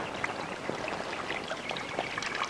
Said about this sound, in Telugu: ఆ తర్వాత బకెట్ నీళ్లు కొట్టు.